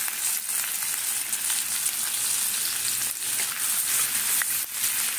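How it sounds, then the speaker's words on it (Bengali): Ginger and garlic paste frying in a pan gives a soft, steady sizzle with a few brief scraping bursts, moderately quiet and close, with no voices. "এইবারে আদা আর রসুনটা যে বেটে রেখেছিলাম এটা দিয়ে দিচ্ছি।"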